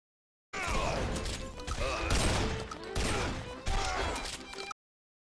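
Dense, chaotic gunfire and crashing impacts in the video game Guns, Gore & Cannoli, a steady loud burst of about four seconds that starts and stops abruptly.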